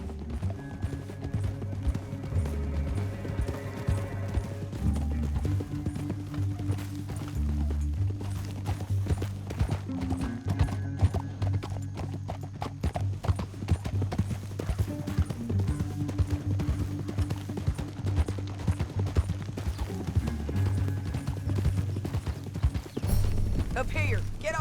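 Horses gallop in the Western video game Red Dead Redemption 2, their hooves clip-clopping in a fast continuous rhythm under a low droning music bed.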